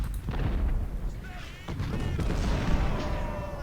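Artillery booms roll out in the Civil War video game Ultimate General: Civil War, a rumbling barrage of deep blasts and crackling fire under a steady loud din.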